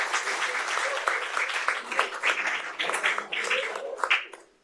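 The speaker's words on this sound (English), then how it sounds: "let's give softball a round of applause" Applause from a room of attendees at a city council meeting, dense steady clapping with some voices mixed in, building and then trailing off at the end.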